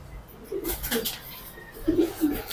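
A dove coos several times in soft low hoots, close by, over faint background hiss.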